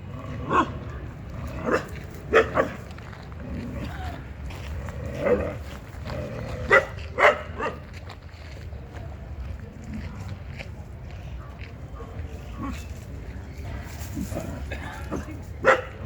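Street dogs bark in short scattered bursts during a standoff with a mother sow guarding her young, heard against a noisy outdoor background, with some voices mixed in.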